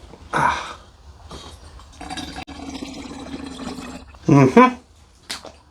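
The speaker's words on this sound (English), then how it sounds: "now we're going to get the rest of our apple juice in" Apple juice is poured from a can into a fermenting vessel for homemade country white wine, a steady splashing stream lasting a couple of seconds, close by, with people talking before and after.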